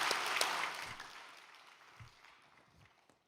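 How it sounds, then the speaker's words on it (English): Religious congregation giving a round of applause, starting fairly loud and thinning steadily into a fading, scattered patter. "let us offer them a great round of applause"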